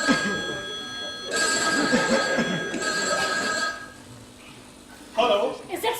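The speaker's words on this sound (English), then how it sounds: "Sanju, phone." A telephone rings with a steady electronic tone in an indoor stage scene, the ring repeating in bursts beneath people talking nearby.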